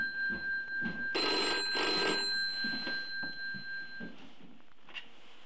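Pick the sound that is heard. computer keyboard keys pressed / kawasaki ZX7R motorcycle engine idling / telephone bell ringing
telephone bell ringing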